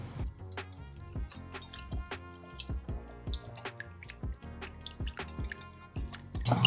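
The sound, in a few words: whisking lemon salad dressing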